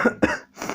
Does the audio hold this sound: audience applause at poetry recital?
no